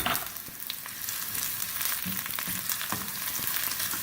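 Steady crackling sizzle of small onions frying in a quarter cup of hot oil for a moong dal tarka, close up, with scattered pops and spatters throughout and no talking.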